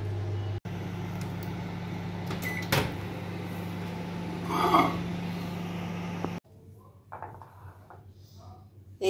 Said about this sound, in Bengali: ওই যে মাইক্রো ওভেন ডাকছে, চায়ের জল গরম হয়ে গেছে